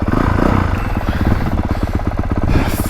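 Honda CRF450R dirt bike ridden hard on a woods loop, its four-stroke engine roaring loud and close with a steady rapid firing pulse, rising and falling with throttle and clattering over terrain.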